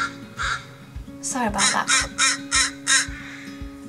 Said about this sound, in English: I'm sorry about those crows.